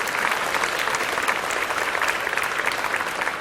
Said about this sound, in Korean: 하나님께 영광의 박수 올리십시오